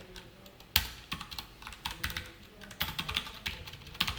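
Typing HTML and CSS code on a computer keyboard: quick, uneven bursts of close key clicks and taps with short pauses, fairly quiet and with no voices.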